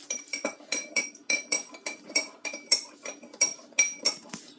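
A metal spoon stirs Easter egg dye in a bowl, clinking rhythmically against the sides, about three to four taps per second, close and bright.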